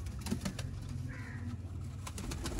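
A pair of Sialkoti pigeons at a breeder's loft, giving soft low coos and light wing flutters close by against a faint background hum.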